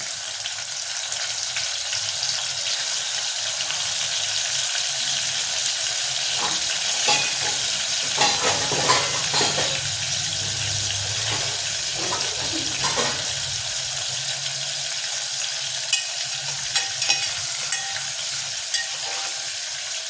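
Washed dried fish pieces sizzling in oil with cumin in a pan on low heat while being gently stirred, a continuous close frying hiss with occasional soft scraping and clinks of the spatula.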